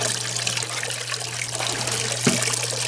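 Water trickles and flows steadily over the mat of a Martin gold prospecting water table, with a constant low hum running underneath and a brief splashy burst near the end.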